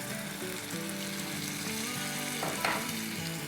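Potatoes frying in hot oil with turmeric and cumin sizzle continuously, with a brief scrape of stirring late on, close and steady with no voices.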